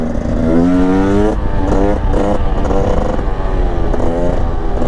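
A Husqvarna 300 TE supermoto motorcycle accelerating in third gear without the clutch, its loud, close engine note climbing in pitch in several quick surges.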